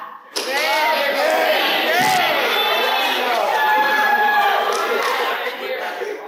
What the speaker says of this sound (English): When I say clap, you yell your name.